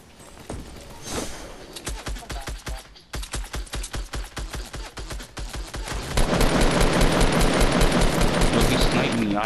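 Gunfire rattles through a Fortnite match: a steady burst of evenly spaced shots runs for several seconds, then gives way to a louder, dense barrage of overlapping fire, all close and without talk.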